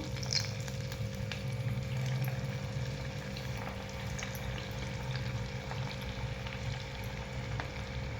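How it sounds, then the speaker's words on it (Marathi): Medu vada, fasting fritters, fry in hot oil over a low flame, giving a steady, even sizzle and bubbling that carries on throughout with no talk. "आपण आता हे वडे तळ तळायला सोडूया बारीक गॅसवरती तळायचे आपल्याला"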